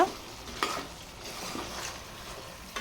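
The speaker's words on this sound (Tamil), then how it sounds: "அதனால் சிம்மில் வச்சுட்டு மட்டும் கிண்டி விட்டுக்கோங்க" Mutton masala is stirred in a pan over a low flame, giving a soft, steady sizzle broken by a few scraping strokes of a spoon against the pan, fairly quiet and close.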